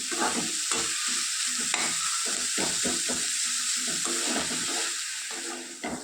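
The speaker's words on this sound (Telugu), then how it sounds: "ఈ విధంగా ఉల్లిపాయలు వేగితే సరిపోతుంది" Salted onions fry in a pan with a continuous sizzle, while a spatula stirs and scrapes in a steady rhythm close by.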